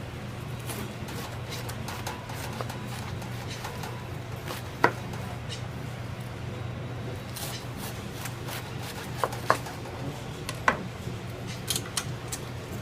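Meat slicer cutting food in a kitchen, a steady low motor hum broken by scattered light clicks and taps as slices come off, fairly faint and close.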